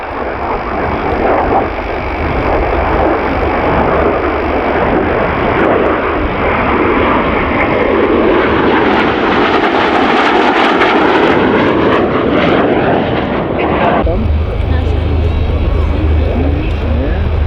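A Gloster Meteor jet flies past at Leuchars Airshow with a loud, continuous roar that swells and changes pitch as it passes, its engine noise filling the whole stretch from start to finish.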